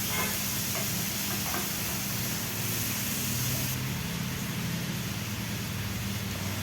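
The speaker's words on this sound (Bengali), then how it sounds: "এবার সুন্দর করে পেঁয়াজগুলোকে ভেজে নেব লাল করে।" Onions fry in a pan for a ghugni recipe, a steady dense sizzle and hiss that stays loud and unbroken, with faint stirring scrapes near the start.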